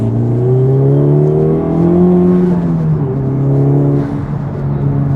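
A smooth, deep note from a full aftermarket exhaust on a Honda Civic Type R in comfort mode, holding a steady low drone, rising slightly then easing off, with a faint whine above it.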